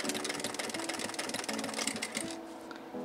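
Sewing machine stitching a baseball hat, a rapid mechanical rattle of the needle running continuously before slowing and fading at the end.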